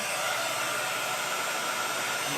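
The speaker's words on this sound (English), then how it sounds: "And then you just turn on your heat gun." A heat gun blows steadily with a constant, close whooshing hiss of hot air, unbroken for the whole moment.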